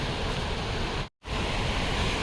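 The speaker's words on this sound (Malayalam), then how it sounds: "അടിപൊളി വെള്ളച്ചാട്ടം നല്ലതായി" Thoovanam waterfall in Chinnar forest roars in a dense, constant wash of falling water, close and loud. It cuts out abruptly for a brief silent gap, then resumes.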